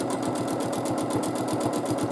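Sewing machine quilting a border with green thread, a fast, even, rhythmic needle chatter running continuously and close.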